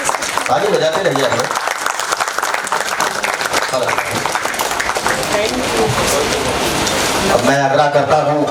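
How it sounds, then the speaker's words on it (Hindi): Audience applause fills a hall at a foundation-day seminar of the Bharat Tibbat Sahyog Manch, a steady dense roar of clapping throughout with voices mixed in. "ताली बजाते रहिए।"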